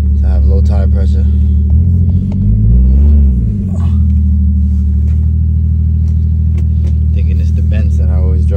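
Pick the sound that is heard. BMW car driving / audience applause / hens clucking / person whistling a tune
BMW car driving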